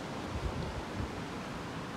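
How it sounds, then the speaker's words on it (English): Wind blows steadily in a broad, even rush with low gusty rumbles from buffeting against the microphone, and no other sounds stand out. "Looks like the wind's finally picking up a bit."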